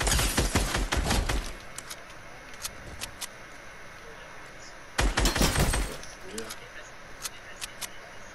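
Gunfire from the Fortnite battle royale video game comes as two sharp, crackling bursts of rapid shots, close and loud, with quieter scattered clicks and rustles in between.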